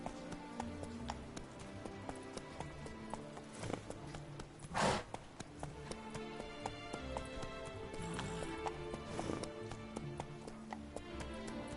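Roach the horse gallops in The Witcher 3, hooves clip-clopping in a steady rapid rhythm at moderate distance, with a couple of brief louder bursts partway through.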